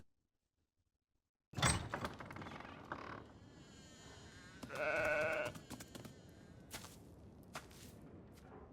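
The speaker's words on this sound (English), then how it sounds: "What, are those the sheep?" Sheep bleat in a TV show, one sustained, wavering bleat rising over background sound effects and scattered knocks after a silent start, fairly close and moderately loud.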